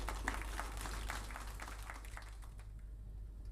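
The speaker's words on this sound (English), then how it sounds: "A round of applause for him again." Audience applause at an inaugural launch ceremony, a steady wash of clapping that runs for several seconds before thinning out, moderately loud and without speech.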